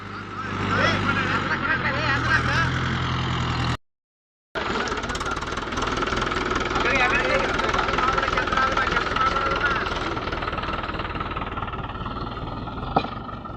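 A farmer's tractor bogged in a waterlogged, muddy field runs continuously with a rough, knocking engine note, heavy and close, briefly cutting out before resuming, with voices talking over it.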